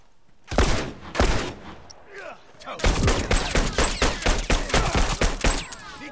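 Multiplayer gunfire in The Last of Us, a few loud separate shots followed by a rapid string of reports, close and punchy.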